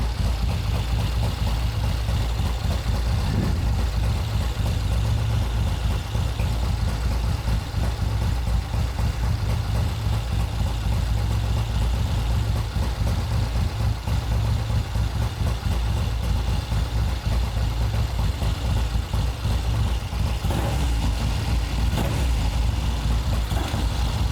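A green Triumph TR6 motorcycle engine runs at a steady idle throughout, a loud, continuous low rumble with even pulsing and no talk over it.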